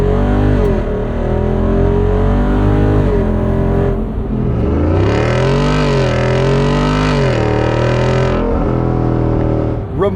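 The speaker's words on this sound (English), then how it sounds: "you can kind of hear how this behaves when it's shifting its own gears" A 2024 Jeep Wrangler 392 Rubicon Final Edition with its Hemi V8 pulls hard under acceleration, the loud engine note rising and dropping at each automatic gear change, recorded from inside the cabin with no talking.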